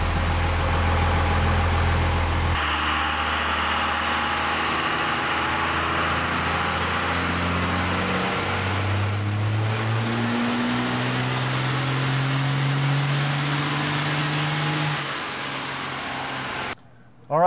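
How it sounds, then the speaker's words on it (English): A turbocharged truck engine with ported cylinder heads runs on a dyno, going from idle into a long, loud pull with the pitch climbing steadily, then easing off before a sudden cut at the end. "we're gonna put this on the dyno now"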